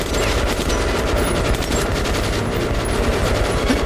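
Gunfire in the video game Metro Last Light Redux: a dense, continuous fusillade of rapid shots and bursts, loud and steady throughout with no pauses, no voices over it.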